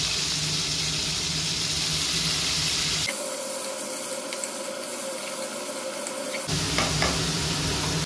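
Food pieces frying in hot oil before water is added for Maggi noodles, a steady close sizzle running throughout with occasional light stirring clinks, no voices.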